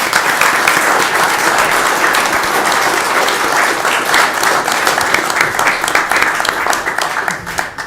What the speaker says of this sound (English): A round of applause for Alyssa Netto.